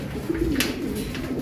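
A racing pigeon gives a soft, low cooing call up close, over a faint murmur of background noise.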